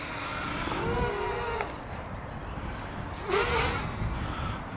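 An XK X251 ready-to-fly quadcopter drone hums with a steady motor whine, rising and falling in pitch as the throttle shifts, with two surging passes close by and no talking.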